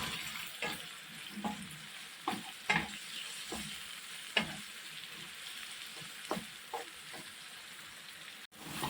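Onion and carrot are gently sautéed in a pan to soften them, a soft continuous sizzle broken by several quiet scraping stirs at irregular intervals, with no talking.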